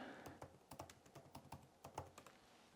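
Rapid, uneven keystrokes on a computer keyboard as a search query is typed, a dozen or so sharp clicks in quick succession, close and fairly quiet with no talking.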